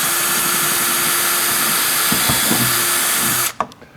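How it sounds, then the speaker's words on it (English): A power drill boring a hole with a 1/4 inch bit while fitting Fish Armor Pro Xtreme accessories, a close, steady whirring grind that runs for several seconds before cutting off abruptly, followed by a brief clatter. "So we're going to drill those out right now. I'll start with the 1/4 in the middle."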